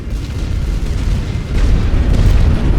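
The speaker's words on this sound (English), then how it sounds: "Right, lots of artillery is now going to go down." Artillery barrage in the World War I game The Great War: Western Front, a continuous deep rumbling roar of distant shell explosions that swells louder in the latter half.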